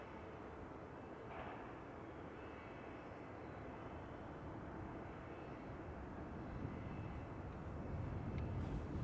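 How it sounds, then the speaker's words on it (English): An IndiGo Boeing Dreamliner climbs out of Amsterdam Schiphol and turns south, its engines a steady, broad roar overhead that swells slightly toward the end, with no voices present. "Indigo turning south after takeoff, passing over you"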